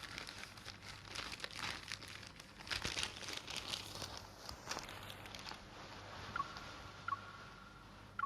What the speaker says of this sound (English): You may check the contents of the plastic bag by the door.